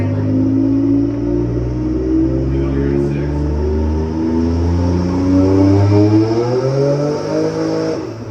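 A Chevrolet Camaro ZL1 1LE with its LT4 V8 revs loud and close, a rising harmonic roar climbing steadily toward redline over several seconds before dropping off at the end, with voices faintly underneath.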